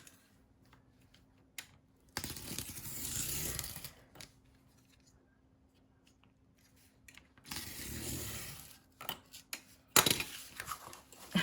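Scissors cutting paper for a grungy pocket: a few separate bursts of crisp snipping and rustling, close and fairly quiet, with soft taps and handling noises in the pauses between them.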